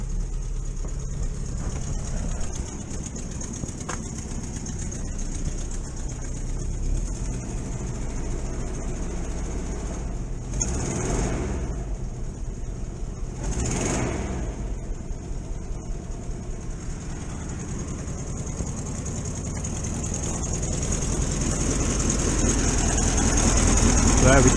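A VW T2 camper van engine idles on its automatic choke in a steady, continuous low rumble, with a couple of brief louder whooshes and rising noise near the end.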